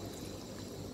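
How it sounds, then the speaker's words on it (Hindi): Water poured into a pot of mixed vegetables with spices while cooking sabzi, a steady continuous pour that runs the whole moment, soft and close with no talking. "पानी मैं इसके अंदर डाल चुकी हूँ, आप देख सकते हैं।"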